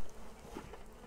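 Honey bees buzz steadily around a Flow Hive during a hive split, a soft close droning hum with no voices.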